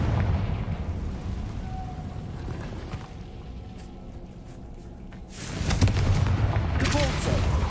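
A fire spell cast in the video game Hogwarts Legacy makes a booming burst that swells in the last couple of seconds over a steady rumbling game background.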